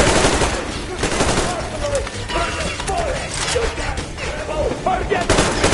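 Dense automatic gunfire in the video game Metro Exodus, loud bursts firing almost continuously, with shouting voices mixed in.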